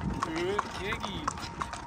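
Horse hooves clip-clop in a quick, regular rhythm as the horse pulls a tanga cart, close and clear, while a voice urges it on over the steps.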